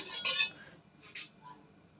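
A metal utensil clinks and scrapes against a wok a few times while stir-frying pork for green curry, a sharp clatter at the start, then quieter scraping strokes in a quiet room.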